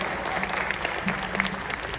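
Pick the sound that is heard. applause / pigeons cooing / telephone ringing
applause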